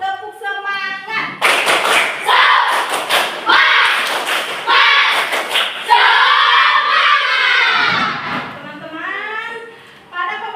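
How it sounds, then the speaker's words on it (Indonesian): A school class performs a rhythmic spirit clap, loud group claps in quick patterned bursts, with children's voices chanting and calling along between and over the beats. "kita tepuk semangat dulu sebelum ke pembelajaran awal"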